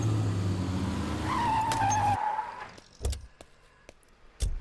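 A car brakes to a stop in the middle of a road, a brief rising tire squeal and engine drone that cuts off abruptly, followed by a few sharp knocks and thuds in near quiet.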